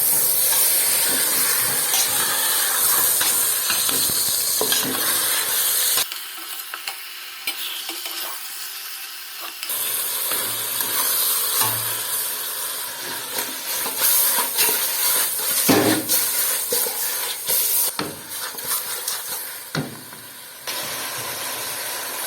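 Smashed onions and roasted ingredients for Palestinian maqluba are stirred in a pot, with repeated close scraping and clattering strokes over a steady sizzle and hiss, broken by a few brief quieter pauses.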